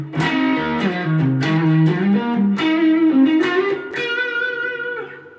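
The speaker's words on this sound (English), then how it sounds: "my favorite tone in the world is a Strat neck pickup" Stratocaster electric guitar played on the neck pickup with a little distortion, a warm, slightly gritty tone picking a melodic run of single notes and double-stops, steady and close, with no talking.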